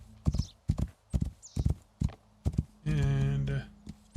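A horse's hooves clip-clop in the Rising World video game, sharp separate strikes at an uneven gallop rhythm, broken by a loud whinny partway through, with a faint steady hum in the background.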